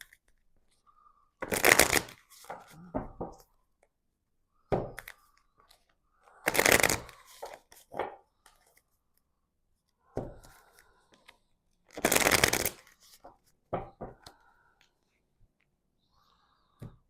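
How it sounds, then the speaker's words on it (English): Tarot cards are shuffled in several brisk riffling bursts, close up, with soft whispering in the quiet gaps between them. "let me shuffle the cards a bit for you"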